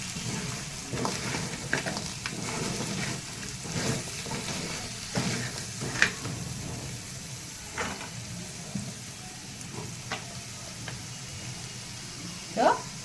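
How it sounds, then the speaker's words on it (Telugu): Food fries and sizzles in oil in a pan as garam masala and salt are stirred in, with steady crackling, scraping stirs and occasional sharper clinks, while someone talks over it. "ఇదో ఒక చెంచా గరం మసాలా, ఒక చెంచా సాల్ట్ వేసుకొని ఒకసారి బాగా కలుపుకుందాం."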